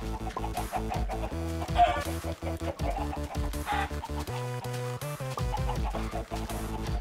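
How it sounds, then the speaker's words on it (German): A chicken in Minecraft clucks in short repeated bursts over steady game music, fairly close and clear, with no talk. "Hey Mann, du dummes Huhn!"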